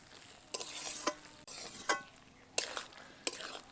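Hilsa fish tail mash, with sugar and ground roasted spices, being stirred in a pan: a soft sizzle punctuated every second or so by scraping strokes of a spatula.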